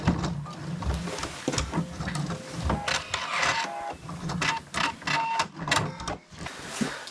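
A sewing machine stitches the inner seam of an anorak in a steady, close mechanical whir that runs nearly without pause, with small clicks and shifts in pitch as the fabric moves under the needle.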